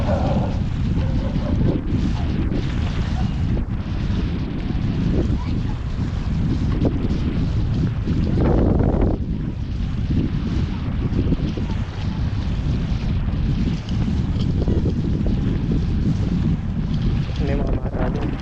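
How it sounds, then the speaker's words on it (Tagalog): Strong, steady wind roars across the microphone the whole time in Baseco, Port Area, Manila, Philippines, with a low rumbling gust noise and a faint swell partway through. "Medyo malakas yung hangin."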